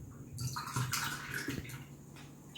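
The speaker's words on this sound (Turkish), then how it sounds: "Sirkeyi yine bir çay bardağı buna katıyorum." Vinegar poured from a tea glass into a jar of vegetables for Turkish pickles, a steady close liquid splash and gurgle running for about two seconds with no talk.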